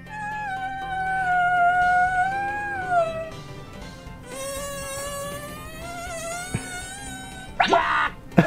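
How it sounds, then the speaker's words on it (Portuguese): A long cartoonish fart sound effect for the character Wario from a Nintendo app plays as a drawn-out, wavering, buzzy tone with shifting pitch, followed by short splattery bursts near the end. "na hora que eu tô fazendo o Wario peidar,"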